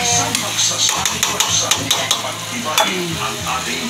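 Vegetables being stirred and mixed in a hot frying pan, loud continuous sizzle with a rapid run of spatula scrapes and taps against the metal, a low hum beneath.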